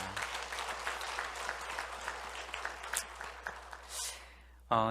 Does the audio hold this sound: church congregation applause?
yes